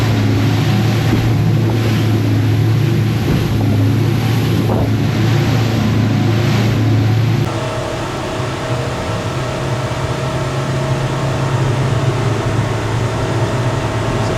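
A Seaking 770W boat powered by twin Yamaha 200 outboards runs at speed, giving a steady, loud engine drone with wind and water rush. Midway the engine note drops to a lower, slightly quieter hum as it slows.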